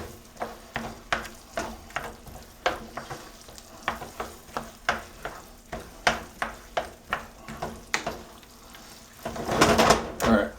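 Cordon bleu casserole mixture cooking in a pan, popping and snapping with sharp, irregular crackles about once a second, then a denser sizzling burst near the end, heard close with no talk.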